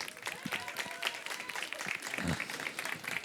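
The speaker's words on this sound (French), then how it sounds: "J'aimerais que vous applaudissiez très fort le chef étoilé, David Gallienne, s'il vous plaît." An audience at a market cooking show applauds a starred chef, a faint, thin scattering of hand claps with murmuring voices underneath over a few seconds.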